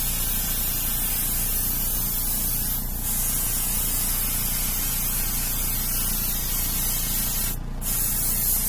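Paint spray lays a base coat over a prototype Batman figure: a loud, close, continuous hiss that runs for the whole stretch, with two very brief dips in the flow.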